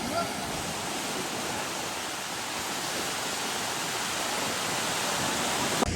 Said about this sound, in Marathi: अरे प्रेशर बघ काय पाण्याचं इथं.